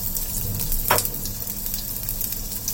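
Sliced onion and slit green chili sizzle and fry steadily in a hot pan with cinnamon and cloves, a continuous soft crackle with one brief louder stir or clatter near the start.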